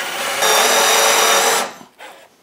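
A power drill spins a Forstner bit into wood at a pilot hole for a workshop wood cart, one loud close whirring burst of about a second that winds down, followed by a brief fainter spin.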